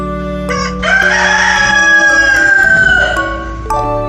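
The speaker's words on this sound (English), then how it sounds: "This is a rooster." A rooster crows one loud, close cock-a-doodle-doo lasting about three seconds, rising and then trailing off over soft background music, with no talk.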